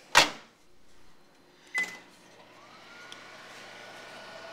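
A microwave oven heats a bar of Ivory soap, starting with a sharp button beep and a click, then a low steady hum of the running oven with faint whirring.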